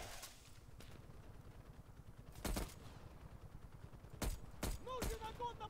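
Scattered gunshots from the Call of Duty: Cold War campaign, a few sharp isolated cracks over a quiet background hum, fairly faint overall.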